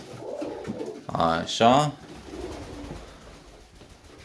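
Chinese owl pigeons coo in two loud, close bursts of rolling notes, with a short spoken word just before and quieter cooing and background murmur before and after.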